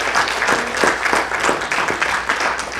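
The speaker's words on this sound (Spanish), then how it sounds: "Dale un aplauso a las mujeres aquí" Church congregation applauding the women at a Spanish-language sermon service, a steady full round of clapping throughout, with rhythmic pulses and faint voices mixed in.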